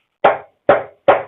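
A conga drum is struck on its rim with the fingers three times in quick succession, producing short, sharp, punchy high-toned hits that decay quickly and sound close.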